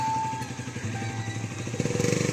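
A Bajaj Dominar 400 motorcycle engine idles with a low burbling thrum, then its exhaust pulses grow louder and quicker as the bike begins to pull away, heard alone without talk.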